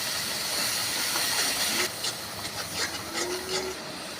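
Hot pan hisses as sour curd yogurt goes in for an egg curry. A steady sizzle shifts abruptly partway through into sputtering, uneven crackles and bubbling.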